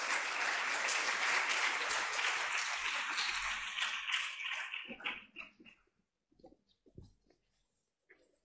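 Audience members at a talk on scientific journals applaud the panel speakers with dense clapping that fades out into a few scattered claps, faint murmurs and near silence.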